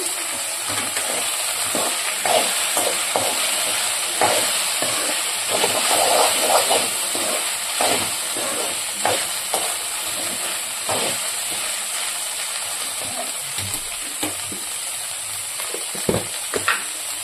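Okra (bendakai) sizzles and hisses steadily in a frying pan, with intermittent scraping and clinks as it is stirred close by.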